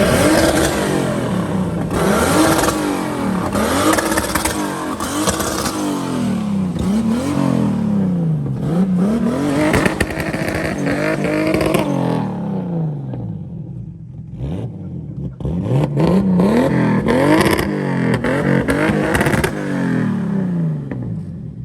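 A BMW E36 turbo car revs repeatedly, its engine note swelling and falling in loud close cycles, with a short lull before the revving resumes.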